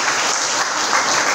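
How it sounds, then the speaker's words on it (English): A theatre audience at a college performance claps in dense, sustained applause, loud and close, filling the whole moment without a break. "So a big round of applause for them again"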